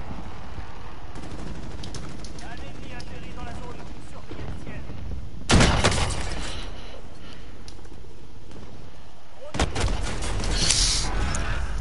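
Automatic gunfire in the Call of Duty video game, two sharp loud bursts breaking through a busy mix of in-game sounds, with a player talking over parts of it.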